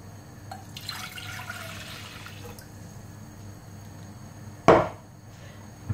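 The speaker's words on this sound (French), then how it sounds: "on va introduire 450 ml d'eau." Water is poured into a pot on a lit gas stove for instant Chinese noodles, heard as a soft, faint stream early on, followed by a single sharp knock near the end.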